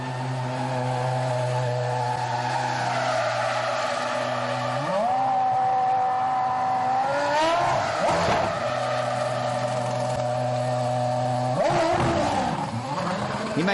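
Kimi Raikkonen's damaged McLaren Mercedes Formula 1 car limps back to the pits, its engine droning steadily at low revs, climbing in pitch around midway and again near the end, loud and close with no talk.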